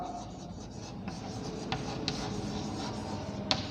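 Chalk or marker scratching on a board during a maths lesson on group theory: soft, steady rubbing strokes with a few brief sharp taps, quiet and close, with no talking.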